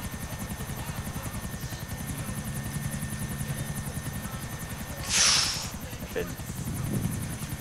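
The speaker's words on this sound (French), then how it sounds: "Ah mais il y a un hélicoptère." A helicopter flies in the GTA 4 video game, its rotor beating in a steady rapid pulse throughout, with people talking over it and a brief sharp noise partway through.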